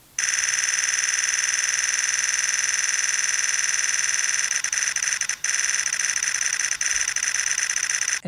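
A Nikon Z9 buffering onto a Delkin CFexpress Type B card gives a loud, continuous high-pitched electronic whine that holds almost unbroken, with only a few faint flickers and short dips near the end, no speech.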